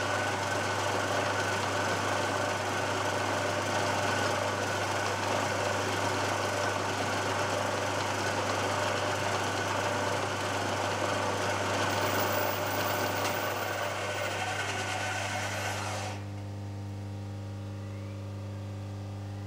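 A drill bores into an aluminium casting for a float lock vice, its loud, steady mechanical whine running continuously for about sixteen seconds before it stops, leaving a low hum.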